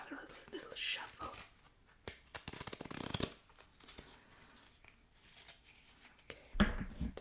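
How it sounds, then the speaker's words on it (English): Playing cards are shuffled in soft bursts of riffling and flicking, close and quiet, alongside faint whispered speech. "we'll give them another little shuffle."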